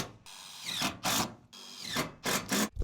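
A power drill drives roofing screws into the roof of a DIY shipping-container workshop, giving four or five short, loud whirring bursts separated by brief pauses, with no talk.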